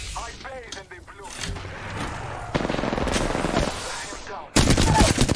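Rapid automatic gunfire in an Apex Legends match, loud and close, with sustained bursts building toward a very loud volley at the end, mixed with players talking and game effects.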